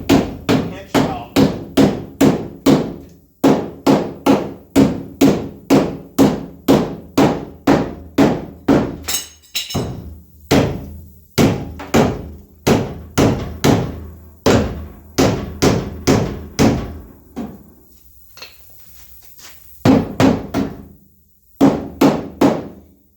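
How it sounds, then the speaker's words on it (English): Hammer blows pound the rusted pinch welds of a Ram 2500 truck, dozens of loud, sharp metallic strikes in fast rhythmic bursts with short pauses between runs, close and dominant with no talk. "take the hammer and kind of beat up our pinch welds here"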